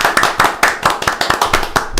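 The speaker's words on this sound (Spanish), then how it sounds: "¡Aplausos!" A single person claps quickly and evenly, about four claps per second, close and loud, with no crowd applause.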